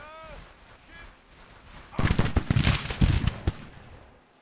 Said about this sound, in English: So you just saw that they started firing.